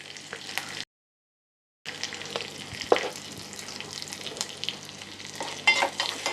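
Tadka of chana dal, urad dal, hing, curry leaves and red chilies frying in hot oil: a steady close sizzle with crackles and stirring scrapes, broken by a second-long dropout.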